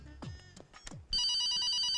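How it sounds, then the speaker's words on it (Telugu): Telephone ringtone in a Telugu comedy sketch: after some muffled movement, a loud electronic ring starts abruptly and continues steadily, close and alone, with a repeating warbling pattern. "నాకు ఫోన్ వచ్చేస్తుంది"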